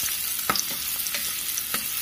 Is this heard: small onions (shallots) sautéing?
yes